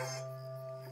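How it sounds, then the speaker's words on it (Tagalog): A dog whimpering and crying at night, a thin, sustained tonal whine held steadily for about a second, faint and close. "May asong umiiyak."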